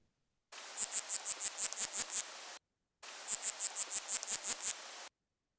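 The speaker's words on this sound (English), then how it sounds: "This is a water boatman in Japan." Two bursts of quick, high-pitched chirping pulses over a hiss, about ten pulses each, from a water boatman stridulating underwater in Japan.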